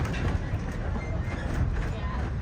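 A train at the Colorado Railroad Museum rumbles steadily along the track, a continuous low mechanical roar with faint rattling, fairly close, with no clear voices.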